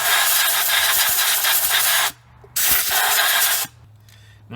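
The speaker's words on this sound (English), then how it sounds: "we're going to take our compressed air. We're going to blow out anything" Compressed air blasts out of a Ford Escape spark plug well in two loud, steady hissing bursts of about two seconds each, separated by a short pause, with a faint engine-bay hum between them.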